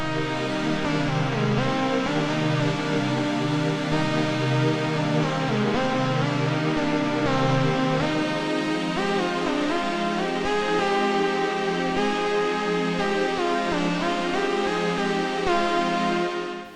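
Polyend Synth, a multi-engine synthesizer, playing a rich sustained patch with shifting melodic notes over a steady low pulse, continuous and loud for the whole stretch, with no voices.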